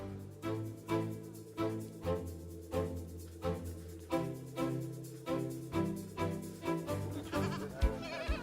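Goats bleat repeatedly on a farm in Burundi, a steady run of loud, close, wavering calls, one after another with short gaps and no voices.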